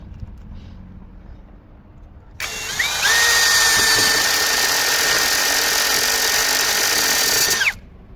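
A Grosser GCD 520Q cordless screwdriver drives a self-tapping screw: after a quiet start, a loud steady motor whine runs for about five seconds, its pitch shifting slightly as the screw bites, then stops abruptly.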